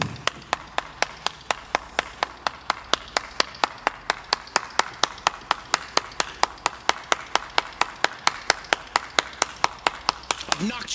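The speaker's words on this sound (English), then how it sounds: "Obnoxiously long Shia LaBeouf clap." A long, slow clap in the video game Shin Megami Tensei V: sharp, evenly spaced single handclaps repeating steadily for about eleven seconds, with faint background sound beneath.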